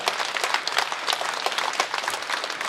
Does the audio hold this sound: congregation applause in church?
yes